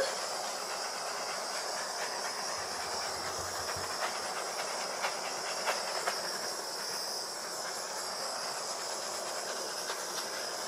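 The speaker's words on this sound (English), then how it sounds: "Now I'm gonna use the torch and just go over the paint" A handheld torch flame blows steadily over a wet acrylic pour painting made with coconut milk, a continuous close breathy hiss with no talking.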